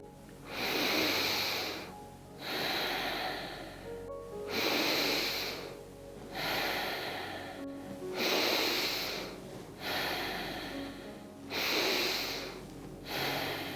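Slow, deep yoga breathing, with about seven even cycles of audible inhales and exhales at a steady rhythm, close and soft with a hissing airy quality, and no talking.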